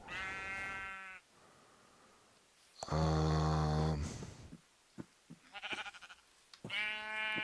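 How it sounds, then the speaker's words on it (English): Several loud, close Minecraft sheep bleats, one long wavering cry in the middle and shorter calls at start and end, with a brief murmur between. "Sheep sounds are scaring me."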